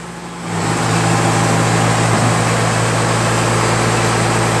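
A 2004 Atlas Copco ECM590 drill rig with a Cummins engine starts up and settles into a loud, steady diesel roar with a low droning hum, close and continuous with no talk.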